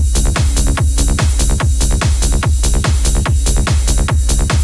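Aggressive fast techno drum groove with a pounding kick on every beat, crisp hats and dense percussion in a tight driving loop, loud and relentless throughout with no voices.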